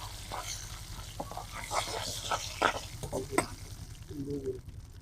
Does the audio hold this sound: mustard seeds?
yes